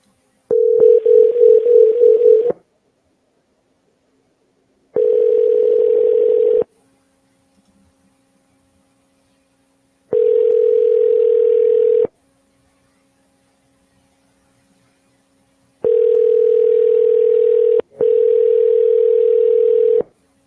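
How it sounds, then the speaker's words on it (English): Ringback tone on an outgoing phone call to a property owner, heard close and alone: a steady electronic tone in repeated bursts of about two seconds separated by silent gaps, with a faint hum between them and no voices. "Answer that phone, boy."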